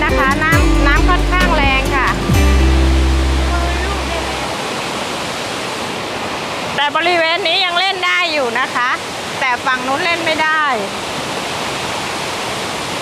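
Sarika waterfall in Nakhon Nayok roars as a loud, constant rush of falling water in rainy season, heard under someone talking across most of the stretch.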